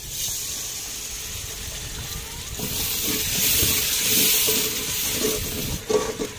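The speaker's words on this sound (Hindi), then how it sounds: "मिक्स करने के बाद थोड़ा सा पानी डालेंगे ताकि तड़का नीचे न लगे।" A steady sizzling hiss swells as water hits a hot frying pan of spice tempering, with stirring scrapes and bubbling that grow louder, then a few clatters.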